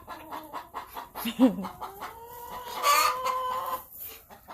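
Egg-laying backyard hens cluck and murmur close by in a steady, busy stream, with one louder drawn-out squawking call rising near the end.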